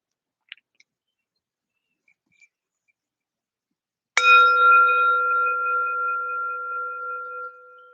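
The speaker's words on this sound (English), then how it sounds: "starting with a bell and a bow" A meditation bell is struck once after a few faint clicks and near-silence, ringing out clearly with a sustained, slowly fading tone.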